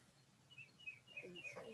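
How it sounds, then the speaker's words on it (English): A mockingbird sings outdoors, faint repeated chirping phrases over quiet background noise. "There is a mockingbird singing so loud."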